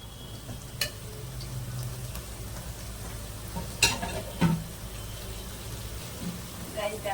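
Dried red chilies and cardamom sizzle in hot oil as a tempering, a soft steady frying hiss with a few sharp clinks and scrapes of a spoon, fairly quiet.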